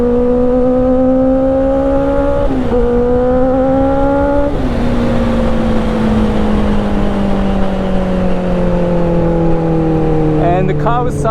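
Kawasaki motorcycle accelerating hard with quick-shifter upshifts, the engine note climbing loud and close then dropping abruptly at each of two gear changes before pulling steadily onward, wind noise underneath.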